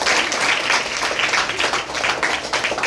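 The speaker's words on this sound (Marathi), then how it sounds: "टाळ्या वाजवल्या पाहिजे" A small group applauds a sixth-grade school science project about saving water. The clapping is dense and continuous, close and fairly loud, with no speech over it.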